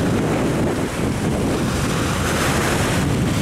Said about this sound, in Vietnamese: Gió thì sóng thổi ầm ầm ha.